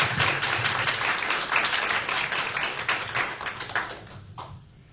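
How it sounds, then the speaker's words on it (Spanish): An audience at a lecture applauds to welcome a speaker, with dense clapping that holds steady, then thins out and fades away near the end. "para quien pido un fuerte aplauso"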